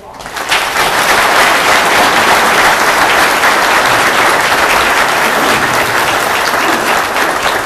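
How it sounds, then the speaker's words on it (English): Sustained audience applause at a Rotary club debate forum, a dense steady clatter of many hands clapping that swells in quickly and holds loud and even throughout. "Please give them both a round of applause."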